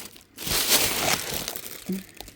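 Crinkling plastic bag of fish food, slightly torn, handled up close in a few bursts of rustling and crunching, with a brief soft thump near the end.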